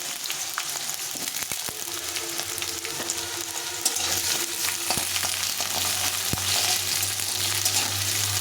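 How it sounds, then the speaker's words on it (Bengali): Potatoes frying in oil with green chillies in a pan, a continuous close sizzle punctuated by occasional utensil scrapes and taps, with a low steady hum joining partway through. "আলুটা একটু ভাজা ভাজা করে নিতে হবে ভালো করে"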